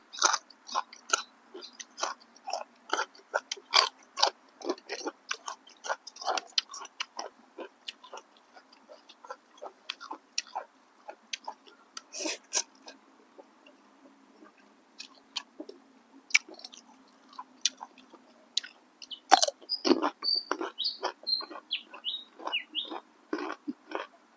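Crunchy chewing of spicy cockle salad mixed with instant noodles and crisp fresh vegetables, a steady run of close, sharp bites and mastication clicks, faint and intimate, with light chirpy background sounds and no talking.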